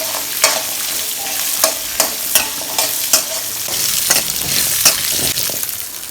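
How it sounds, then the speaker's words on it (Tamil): Quarter kilo of small onions frying in a pan for a village-style crab curry, loud continuous sizzle with regular scraping stir strokes punctuating it. "ஒரு 1/4 கிலோ வெங்காயம் போட்டுக்கோங்கப்பா. போட்டு நல்லா வணக்கிக்கலாம்."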